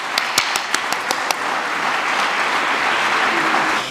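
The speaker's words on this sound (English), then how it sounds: "Warm applause." Warm applause from the audience at a Dominican scholarship ceremony, a dense wash of clapping with a few sharp, close claps at the start, then steady and sustained to the end.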